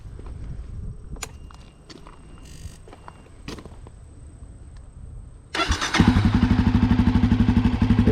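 A Honda CRF250F dirt bike with stock exhaust fires up at close range after some quiet shuffling and small knocks, its engine catching around midway and settling into a steady, fairly quiet idle that runs to the end.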